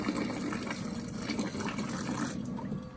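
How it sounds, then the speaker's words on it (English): Water running from a shower head in a bathroom, a steady, close rushing hiss with no talk over it. "So unrestricted, the water here turns on just fine."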